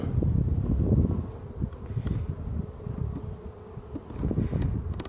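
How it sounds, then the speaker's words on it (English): Honey bees buzz around hive frames during honey collection, a dense, continuous swarm hum with individual bees droning close past and occasional sharp flybys, without any talk. "to try and keep the bees from going back in there and causing a mess"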